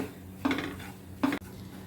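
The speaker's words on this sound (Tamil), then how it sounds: "ஒரு 2-3 நிமிஷம் நல்லா வறுத்துக்கலாங்க." Semolina (rava) being roasted and stirred in a pan, with two distinct scraping sweeps of a metal spoon against the pan, close and fairly quiet, with a light clink as the second stroke ends.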